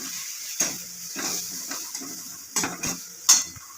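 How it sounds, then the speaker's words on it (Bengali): Garlic fries in a pan with salt and turmeric while a spoon stirs it, giving a steady hiss of sizzling broken by several clinks and scrapes of the utensil against the pan. "এবার একটু ভাজা ভাজা করে নিই রসুনটা দিয়ে।"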